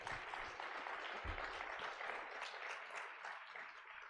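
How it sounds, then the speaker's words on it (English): Conference audience at an epilepsy wellness event applauding partners and volunteers, a faint, steady patter of clapping from a sizeable crowd in a hall. "Please give them a big round of applause"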